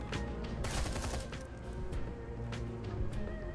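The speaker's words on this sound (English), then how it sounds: "Let's get Johnny the Talon out of cover here with our full auto fire" Full-auto gunfire in Shadowrun: Hong Kong rattles out in loud, dense bursts mixed with sharp cracks and crashing impacts over a low hum, with no talk.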